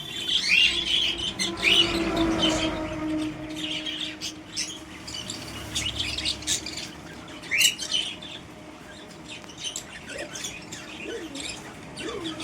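Pet birds chirping and tweeting indoors: a busy mix of quick, high calls and occasional squawks, some close and bright, others softer, continuing without pause throughout.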